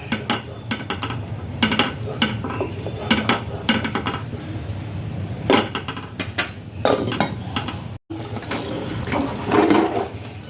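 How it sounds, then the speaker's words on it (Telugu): Pressure-cooked mutton stirred into a spicy curry in a pan, with repeated clinks and scrapes of a metal spoon against the pan over a wet, bubbling background, close and fairly loud. "కుక్కర్ బాయిల్డ్ అయిన మటన్ ఈ కర్రీలో కలిపేసేయాలి."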